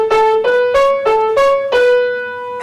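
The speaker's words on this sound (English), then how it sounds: "So Yankee Doodle might sound like this." Yankee Doodle picked out as six clear, evenly spaced plucked or struck notes on a single instrument, each with a bright attack and ringing overtones, played alone and up close.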